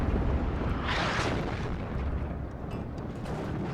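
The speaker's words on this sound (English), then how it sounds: "It's actually just artillery coming in." Incoming artillery fire in the WARNO real-time strategy game, a continuous rumbling barrage with a swelling roar near the one-second mark, dense and steady throughout.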